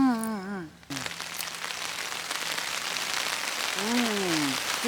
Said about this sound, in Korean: 빗소리까지 해요